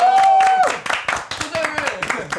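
Hands clap in quick, uneven bursts through a lively group conversation, the claps running under loud, overlapping voices.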